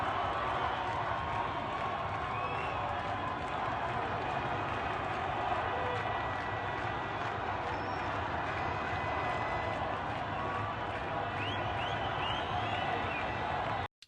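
A constant wall of noise rises from a vast crowd assembling in Tehran, broad and unbroken for the whole stretch, with a few high whistles above it and a sudden cut at the very end.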